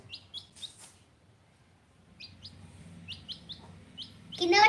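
Young chicks being offered water chirp in quick high-pitched bursts, several peeps in a row with short pauses, close by over a low background rumble, ending in a louder rustling clatter.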